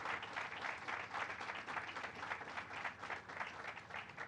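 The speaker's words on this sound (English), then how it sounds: "you can give that a loud round of applause" Audience applause at a governor's housing announcement in Gowanus, a steady dense clapping from a crowd that holds at even strength throughout, with no voices over it.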